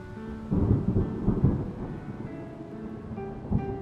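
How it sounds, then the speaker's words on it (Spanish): Thunder rumbles through a rainy storm, with loud rolling bursts early and a later crack over steady falling rain; no voices. "Hubo una tormenta terrible."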